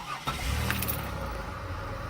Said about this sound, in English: Power my car on,